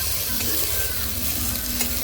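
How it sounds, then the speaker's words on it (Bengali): Eggplant fries in a home-kitchen pan with a loud, constant sizzle that fills the whole moment. "এখানে হচ্ছে বেগুন ভাজা"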